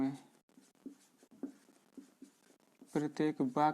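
Chalk scratches and taps on a blackboard while writing in an English grammar class, a string of soft, scattered strokes that end as a voice begins speaking close by.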